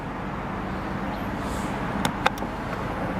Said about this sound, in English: That's your electric closing tailgate.